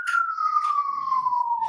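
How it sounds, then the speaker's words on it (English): An emergency siren sounds outside a courthouse as one long wailing tone that slowly falls in pitch, steady and fairly loud, with faint low background rumble near the end. "Siren outside of court."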